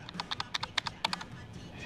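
Computer keyboard typing in the video game Quantum Break: a quick run of about a dozen crisp, close keystrokes with an uneven rhythm, tapering off toward the end.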